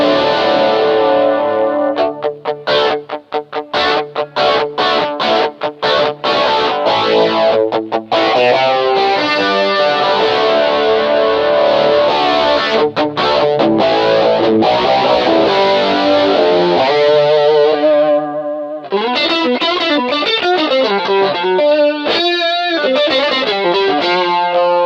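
Electric guitar played through an MXR Rockman X100 analog tone processor, with the guitar's volume knob being rolled up and down: loud, continuous chorused and distorted chords and notes with a brief gap near the end, no talking.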